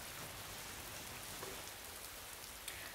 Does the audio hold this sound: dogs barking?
no